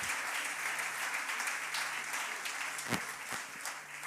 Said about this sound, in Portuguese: aplauda forte ao Rei